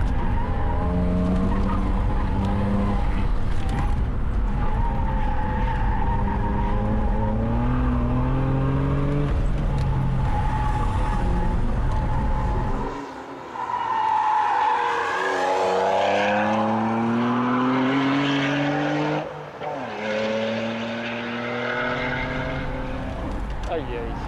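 A Subaru Forester STI or Mitsubishi Legnum VR-4 slides around a lap-timing track, its loud engine note rising and falling through gear changes with tire noise, while people talk over it.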